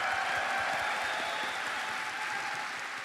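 Steady applause from a large convention audience at TennoCon, a Warframe fan event, sustained and fairly even across the whole stretch with a few faint tonal hums above it.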